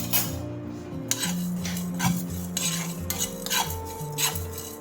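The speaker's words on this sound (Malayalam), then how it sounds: "ഞാനിത് എണ്ണ ഒഴിക്കാതെയാണ് വറുക്കുന്നത്" Coriander seeds and dal dry roasting in a pan without oil, with steady scraping and stirring of a spoon against the metal, occasional clinks, and a faint background hum.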